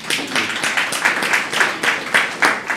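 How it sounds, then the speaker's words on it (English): An audience applauds at a higher education launch event, a dense, steady patter of many hands clapping that swells in gentle waves across the whole stretch. "Let's applaud them."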